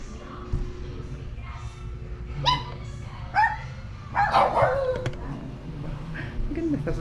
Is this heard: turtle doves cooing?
no